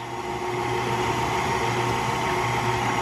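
A KitchenAid stand mixer churns cookie batter with a steady, even motor whir and faint whine that holds at one level throughout, with no talking.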